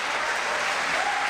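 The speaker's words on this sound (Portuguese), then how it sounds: "Aplauda Jesus por isso" A church congregation breaks into sustained applause, a close, dense wash of clapping hands that holds evenly through the brief moment.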